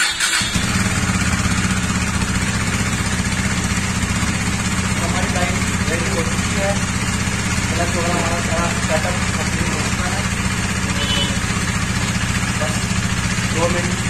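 A 2017 KTM Duke 390 motorcycle running after a new clutch plate fitting, its engine firing up and settling into a steady, loud, close idle throughout, with faint voices underneath.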